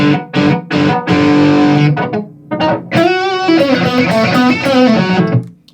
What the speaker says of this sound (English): So right here, that's an overdrive or distortion pedal.